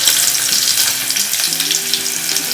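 Garlic and onion fry in hot oil in a pot, giving a loud, close, continuous sizzle and crackle that stays even throughout, with no voices.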